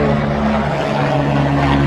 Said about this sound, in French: On va laisser passer l'hélicoptère.